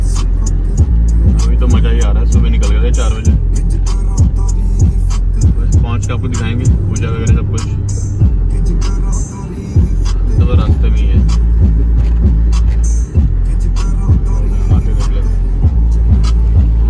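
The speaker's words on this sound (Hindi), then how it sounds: "पहली बार चला रहे हैं यहाँ पे गाड़ी।" Car driven along a mountain road between Dehradun and Karanprayag in Uttarakhand, with a steady low engine and road rumble running throughout and people talking over it.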